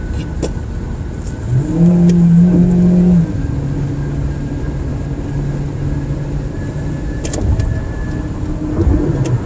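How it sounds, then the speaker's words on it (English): A synthetic car engine in a hunting video game revs up briefly, then settles into a steady drone, with faint clicks and beeps over a continuous background hum. "Did you hear me revving up just to get in front of this person?"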